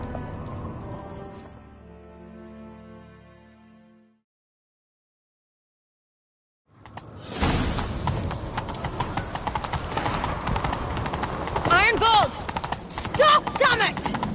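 Hooves clip-clop in a rapid gallop as a horse is ridden in The Witcher 3 video game, loud and continuous after a short musical lead-in and a few seconds of silence.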